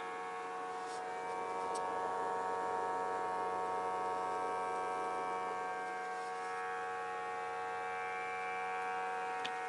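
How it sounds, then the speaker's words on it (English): The fan of an 850D+ hot air rework station runs with a steady electric hum and a faint whir, constant and quiet, with no talking. "So now you can hear the fan."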